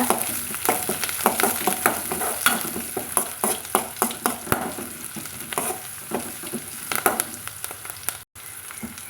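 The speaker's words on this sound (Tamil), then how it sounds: "இப்போ சின்ன வெங்காயம் கருவேப்பிலையும் சேர்த்துக்கிறேங்க சேர்த்துட்டு வதக்கலாங்க" Shallots and curry leaves sizzle in hot oil in a pan, a steady frying hiss with frequent scraping stirs and clinks from a spoon throughout.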